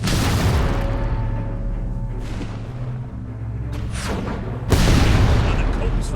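Cannon fire and explosions in the fantasy video game Fable III, with deep booms and blasts rolling over a continuous loud battle rumble and a heavy burst near the end.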